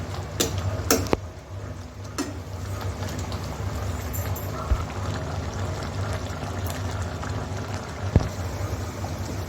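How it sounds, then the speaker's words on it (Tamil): A steady low bubbling and simmering of a mango dish in a pot, with a few faint metallic clinks near the start. "நல்லா கொதிக்கட்டும்."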